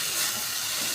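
Cumin seeds sizzling in a little hot oil as a tempering for bottle gourd and carrot, a steady close hiss and crackle filling the whole short moment.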